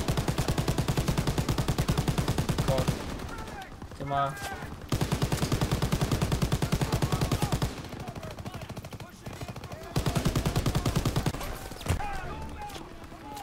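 Turret machine gun firing in Call of Duty WWII on the Rhine, long rapid bursts of loud close automatic fire separated by short pauses, with someone talking briefly between bursts.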